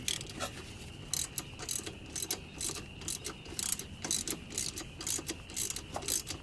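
A hand ratchet clicks rapidly and steadily, close by, as it loosens a 10mm bolt holding a speed sensor bracket on an Acura RSX front strut. The sharp ticks come in quick rhythmic bursts.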